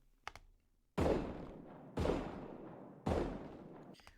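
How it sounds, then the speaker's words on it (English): Three heavy booming blasts from a MASHLE anime scene, each striking suddenly and ringing out for about a second before the next, loud and close, with a brief soft knock just before the first. "We're hearing that explosion"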